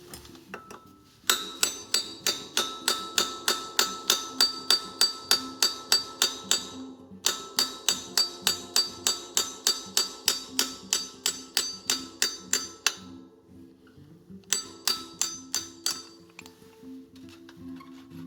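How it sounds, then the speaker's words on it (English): Rapid metallic hammer blows striking a chisel to loosen a bicycle bottom bracket lock ring, in steady bursts, with short pauses between runs of sharp ringing clinks, close and loud. "you're going to take a hammer and a chisel and get the lock ring off the bottom bracket."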